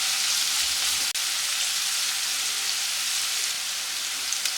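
Onions frying in a pan toward golden, a continuous dense sizzle like steady rain, close and even, with one brief sharp click partway through and no talking.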